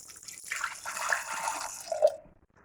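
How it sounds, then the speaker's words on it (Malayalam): Water poured into a pressure cooker of salted potatoes, a short close splashing pour lasting about two seconds that tails off into a brief drip. "എന്നിട്ട് നമ്മുടെ ഉരുളക്കിഴങ്ങ് വേകാൻ ആവശ്യമായിട്ടുള്ള വെള്ളം ഒഴിച്ചു കൊടുക്കാം."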